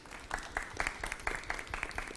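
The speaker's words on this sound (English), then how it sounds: "If you can have a round of applause for that" A small audience claps for a startup's showcase at a televised entrepreneurship event, thin and scattered, with a few distinct hand claps rising over a quiet room for a couple of seconds.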